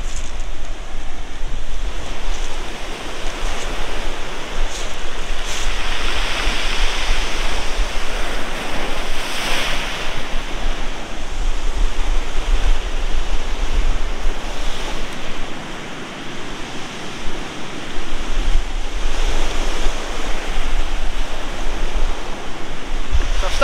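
Sea waves break steadily on a shore, a loud continuous wash of surf with slow swells and some wind rumble, heard alone with no talking.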